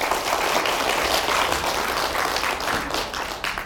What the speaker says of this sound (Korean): 여기서 박수 한번 쳐야 되는데